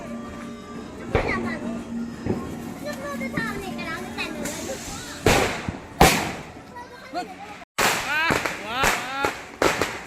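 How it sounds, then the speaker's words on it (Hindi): Diwali firecrackers and rocket fireworks going off in a Manipuri village: several sharp cracks and bangs, some distant, with children's voices and chatter throughout. "वो रॉकेट बम भी बूझ रहा है, देख सकते हैं"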